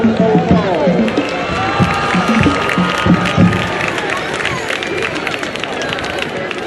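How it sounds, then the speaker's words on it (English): Crowd cheering and clapping at a 2011 Telfair County High homecoming football game against Bacon County, a dense, steady roar of many voices and hands filling the stands with no single voice standing out. "Young ladies, a round of applause."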